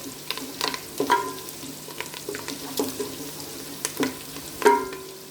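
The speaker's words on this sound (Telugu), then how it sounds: "చూడండి ఇట్లా బాగా వేపుకోవాలి కరివేపాకు" Curry leaves, cumin seeds and green chillies crackle and sizzle in hot oil in a pan for jeera rice, with steady frying hiss punctuated by sharp pops and a few clinks of a stirring spoon.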